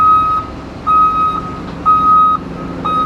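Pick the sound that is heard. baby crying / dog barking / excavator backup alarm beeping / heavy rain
excavator backup alarm beeping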